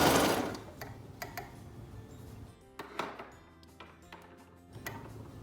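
A home sewing machine runs in short mechanical bursts of ticking and whirring as a seam is stitched around, close by and moderately quiet, pausing between runs.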